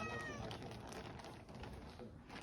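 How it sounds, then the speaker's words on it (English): A cat meows near a bed at a hiking shelter, a few short nearby cries over a quiet background. "the cat decided to come and say, no, you can't sleep here, this is my spot."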